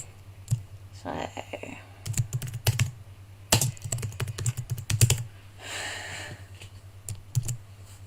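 Typing on a computer keyboard in a design program: scattered bursts of crisp key clicks and taps, irregular in rhythm and close by, with a low steady hum underneath and a brief breathy sound midway.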